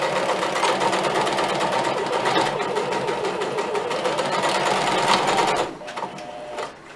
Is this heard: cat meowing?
no